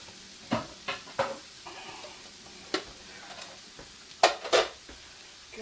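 An egg being whisked in a bowl for apple fritter batter, with scattered clinks and scraping strokes, a few quick taps then a louder pair of strokes near the end, close and fairly quiet, no talking.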